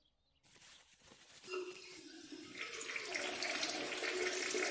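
Shower water running in a bathroom in the game Martha Is Dead, starting after a brief silence and building into a steady, close hiss of spray that grows louder over several seconds.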